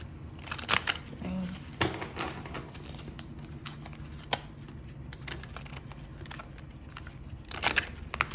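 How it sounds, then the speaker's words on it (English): A deck of tarot cards is shuffled up close, a quiet run of crisp riffling and flicking with a few louder bursts. "these cards are always a doozy to shuffle"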